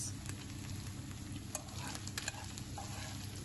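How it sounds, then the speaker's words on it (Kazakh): Meat and onions fry in a pan with a quiet, steady sizzle, broken by faint clicks and scrapes of stirring, with no voices. "Етіміз қызарғаннан кейін пиязымызды салып қуыратын боламыз."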